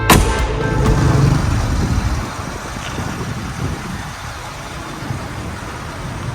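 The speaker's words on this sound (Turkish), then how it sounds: "Şu an Almanya'da Mercedes'in fabrikasında bir ekip şu sese çalışıyor." A $300,000 Mercedes car engine starts with a sharp burst, then settles into a loud, deep rumble that slowly quietens to a steady low drone, with no talking.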